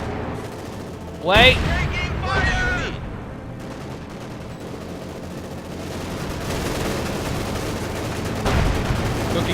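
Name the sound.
gunfire as Panzer IV attacks Maxim, Company of Heroes 2 video game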